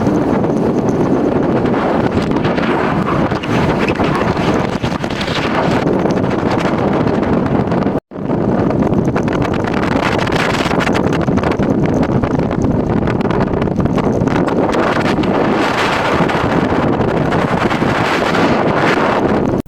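Strong wind with rain buffets the microphone on the Pamban bridge near Rameswaram, a loud, continuous roar broken by a single brief dropout about midway, with no talking.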